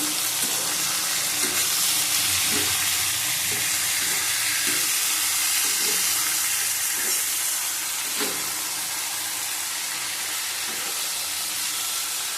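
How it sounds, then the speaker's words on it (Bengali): Kashmiri chili powder and turmeric sauté in a pan for a rohu fish curry with ridge gourd and potato, giving a loud, steady hissing sizzle throughout, with soft, irregular scraping stirs beneath. "কাশ্মীরি লঙ্কা গুঁড়ো দিলাম হলুদ দিলাম আবার ভালো করে কষিয়ে নেব"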